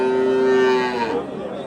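An Indian breed bull calf at a cattle market gives a single loud, close moo that holds steady and then trails off, with market noise behind it.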